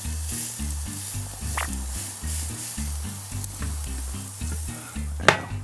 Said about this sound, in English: I'm gonna press it just to make sure I get some good grill marks on there by pressing on it.